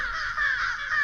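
A crow gives a single drawn-out caw, steady and fairly faint, heard alone with no talking.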